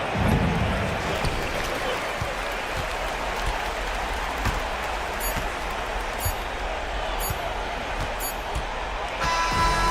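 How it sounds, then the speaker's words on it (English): Home crowd in a Euroleague basketball video game roars steadily for the full stretch after the final shot secures the victory, a dense, continuous wash of cheering with a slight swell near the end. "So the home crowd happy here as they get the victory"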